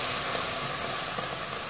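Ground ginger, garlic and onion paste sizzling in hot oil in a mutton gravy pan, a steady, loud, unbroken hiss from start to finish with no voices.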